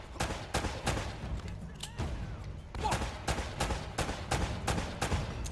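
Gunfire in the shooter game Uncharted: Drake's Fortune, a rapid series of sharp shots spread across several seconds, some in quick clusters, fairly close and loud against a low background rumble.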